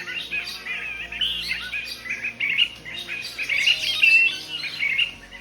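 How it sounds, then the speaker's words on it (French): A large flock of Réunion bulbuls, endemic merles pays, chatter and call busily in the branches along a forest trail, with overlapping bright chirps and whistles close by, continuous and lively throughout. "on entend des merles pays en train de s'amuser dans les branches"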